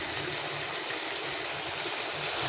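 A fish curry made with mustard and poppy seed paste bubbles and boils in a pot, producing a continuous close, rough burbling with no talking.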